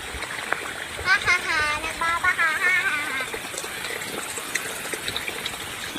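Water for watering watermelon plants splashes and flows close by at low volume, with a voice briefly speaking over it near the start.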